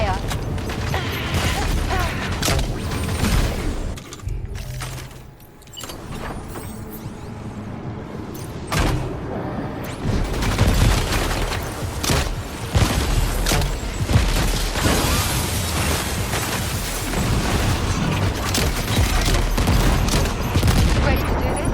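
Gunfire crackles in the video game Death Stranding 2, sustained bursts and heavy mechanical clatter with booms, loud and dense, with voices talking over parts of it.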